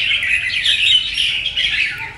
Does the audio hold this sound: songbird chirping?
yes